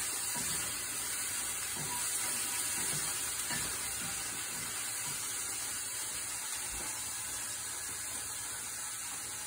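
Lilies frying in a pan over a camp stove, a steady soft sizzle and hiss with faint scraping stirs, quiet and even throughout.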